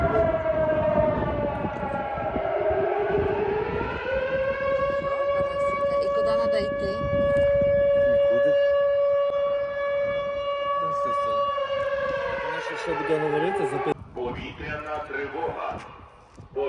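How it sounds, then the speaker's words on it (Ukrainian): A wailing air raid siren in the Donetsk region rises, holds a long steady tone and then falls away, with talk heard underneath. "Повітряна тривога."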